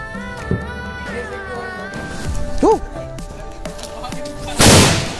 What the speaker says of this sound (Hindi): फिर ये पटाखे को फोड़ूंगा